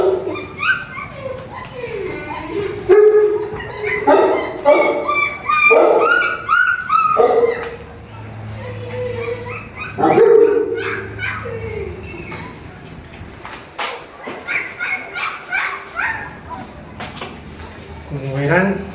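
A puppy that cannot suckle from a bottle whimpers and yips in short, insistent bursts while being tube-fed, close and loud, with a person talking over it at times.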